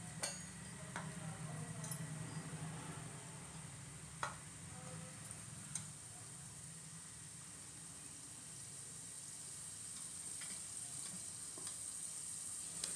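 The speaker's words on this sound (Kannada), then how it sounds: "ಫ್ರೈ ಆಗಲಿ." Black pepper and chana dal fry in a hot pan, a steady quiet sizzle that holds for the whole stretch, with a few light clinks of a spoon against the pan and no talk.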